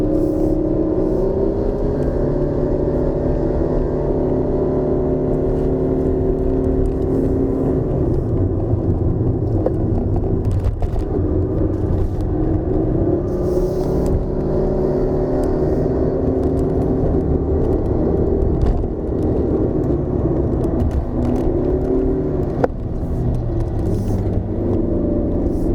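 A 2019 Proton Persona with a CVT and 107 horsepower climbs a hill flat out in low gear, its engine droning loud and steady at a sustained high pitch for the whole stretch, heard from inside the cabin.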